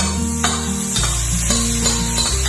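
Bacon frying in a hot, dry wok with no oil gives a loud, steady sizzle that keeps going throughout, with no voices.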